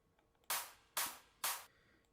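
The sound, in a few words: clap drum samples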